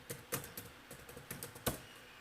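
Typing on a computer keyboard, entering a Python Django manage.py makemigrations command: about a dozen crisp, close keystrokes in an uneven rhythm, a few struck harder than the others, with no voices.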